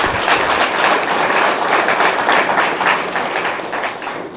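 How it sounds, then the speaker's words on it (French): Crowd applause at a political gathering for the Bloc Républicain in Benin, loud, dense clapping from many hands that sustains for several seconds and gradually eases off toward the end. "Applaudissez très fort pour lui."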